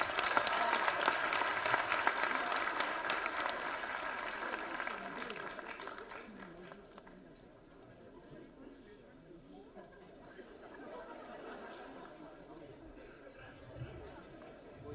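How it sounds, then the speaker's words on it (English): Audience applause at a college award event, steady clapping and cheering strongest at the start, then thinning into crowd chatter as the clapping dies down. "please give a round of applause"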